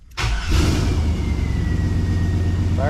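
An LS-swapped car with a hard-starting problem cranks and fires, then settles into a loud, steady idle with a low rumble, close up and with no one speaking.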